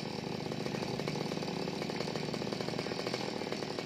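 Chainsaw cutting a tree during risky tree felling, a continuous loud engine whine with steady buzzing that holds even throughout, distant-sounding and alone without any talk.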